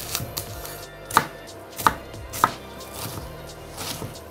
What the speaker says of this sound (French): En parallèle, on va émincer notre oignon.